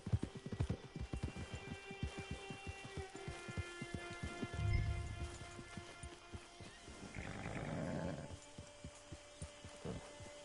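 A horse's hooves clip-clop at a steady walking rhythm, arriving at a camp with a hitching post. The steps are fairly quiet and give way to softer rustling and a brief low snort later on.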